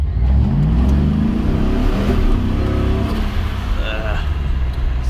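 Supercharged work van engine under wide open throttle, revving hard through gear shifts with a loud, sustained roar that rises and falls, with voices talking over it.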